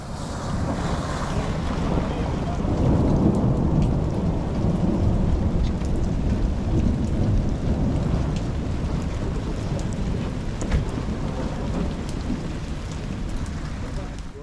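A hailstorm with rain and rumbling thunder in Jordan's Wadi Rum desert, heard as dense, loud, steady wash of precipitation and wind buffeting close to the microphone throughout, with no clear talk.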